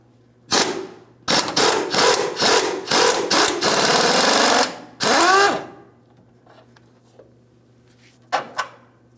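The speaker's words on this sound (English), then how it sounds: "We'll be using a 21mm for the bolt head along the forward side." A tool spins a 21mm bolt on the torsion bar mount of a 2007-2014 GMC Sierra 2500 HD, giving a loud close series of rattling mechanical bursts, then quiet with a couple of faint clicks.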